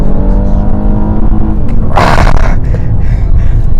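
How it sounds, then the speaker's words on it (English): A Honda Legend all-wheel drive luxury sedan accelerates hard from a launch, its engine droning loud and close with a rising tone, briefly interrupted by a burst of noise like a gear shift before pulling on. "Accelerator down. That launch was good."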